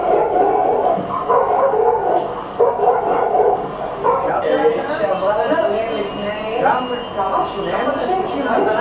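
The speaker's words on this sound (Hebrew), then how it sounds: "פשוט נביחות לכל מקום, כלב היה מפורק רגשית לחלוטין." A rescue dog, emotionally shaken, barks and yips repeatedly at mid distance with restless, uneven rhythm, mixed with people chattering and talking throughout.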